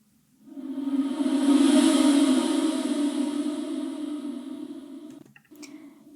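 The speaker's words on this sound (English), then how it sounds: "my vocals that are reversed and added a lot of reverb onto" A reversed, heavily reverberant vocal swells in from silence, sustains as a washy tone, then cuts off abruptly.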